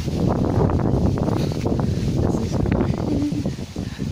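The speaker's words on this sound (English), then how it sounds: "This wind is insane." Strong wind blows outdoors, a loud, steady low rumble buffeting the microphone for the whole stretch with no clear breaks.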